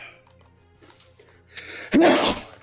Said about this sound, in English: Sorry for a sneeze.